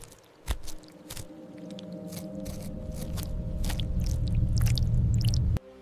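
Beetle larvae inside a rotten log chew and scrape at dead wood: close, irregular crunching bites and scratchy rasps over a low rustling bed, ending in a sharp click.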